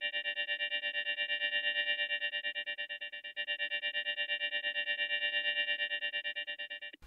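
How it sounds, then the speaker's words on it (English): Sustained organ chord inside a boom bap beat with the other parts muted, processed with chorus, distortion and echo effects, pulsing in a steady wobbling vibrato for several seconds before stopping abruptly. "Let's mute everything except for the organ so we really just hear the organ."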